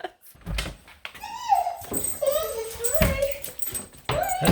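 A distressed female dog, frightened by fireworks, whimpers and whines in long rising and falling cries at close range, with a short soft voice in the background and a brief knock near the start.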